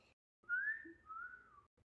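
A person whistles a short melodic phrase: a rising tone that glides into a longer, slightly lower held note. It is close, fairly soft and clear, and heard alone in a quiet room.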